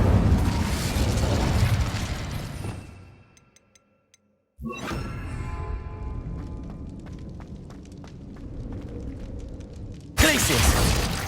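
Incendio fire spell cast in the Hogwarts Legacy video game, a loud fiery whoosh and burst that drops into near silence, then a sharp crackling blast followed by fading rumble and another sudden burst at the end.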